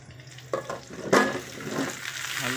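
Potatoes drop into spices frying in oil for aloo dum, a sudden loud splash-like burst of sizzling that settles into a softer hiss with light stirring.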